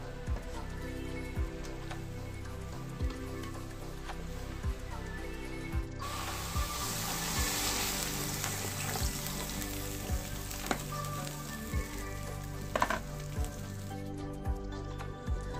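Taro pieces fry with dried fish in a pan, a steady close sizzle throughout with regular knocks and scrapes of a spoon stirring against the pan, growing denser and brighter partway through.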